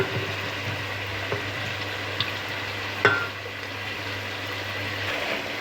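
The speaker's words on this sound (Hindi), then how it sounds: "चिकन फ्राई हो रहा है, ये देखें थोड़ा इसका कलर भी चेंज हो गया है" Chicken pieces fry in masala paste with peas nearby, a steady low sizzle with occasional stirring scrapes and a sharp clink midway, fairly quiet and without talk.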